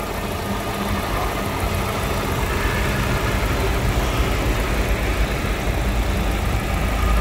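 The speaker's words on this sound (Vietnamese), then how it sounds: "máy nổ siêu êm" A 2005 Kia Spectra with a 1.6 engine idling, a steady close-up mechanical hum and rumble with even, unbroken tone throughout and no talk.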